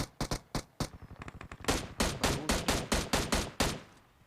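Rapid in-game gunfire from PUBG Mobile: quick scattered shots give way to a dense automatic burst that settles into a steady rhythm of loud, close reports, with no voices.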